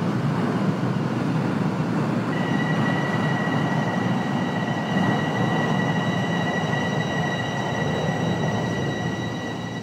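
A Toronto Line 1 subway train in the openBVE train simulator rolls steadily into a station, with loud continuous rumble and high sustained wheel squeal tones joining partway through, no voices.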